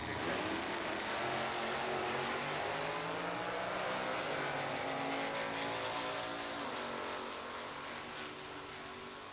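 Two drag cars, a 1972 Chevrolet Vega and a 1966 Chevy, race down the strip with a loud, sustained engine roar that stays strong and steady before easing slightly near the end.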